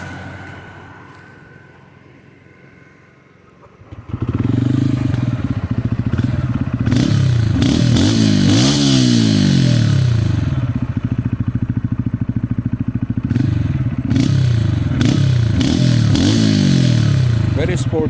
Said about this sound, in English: And let's fire it up and hear the exhaust.